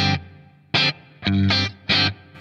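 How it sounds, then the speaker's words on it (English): Electric guitar through a BOSS 500 Series pedal with a small amount of room reverb, playing four short, punchy chord stabs in a quick uneven rhythm, each with a brief ambient tail, loud and without voices. "And I always find with a room reverb, I only like a little bit."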